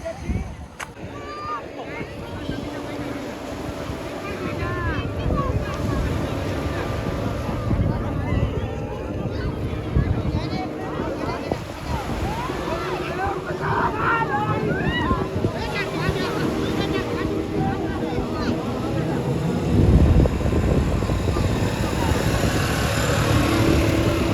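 A speedboat ride at a Dwarka seaside attraction brings steady wind buffeting and water rushing against the hull for a long stretch, with people talking throughout.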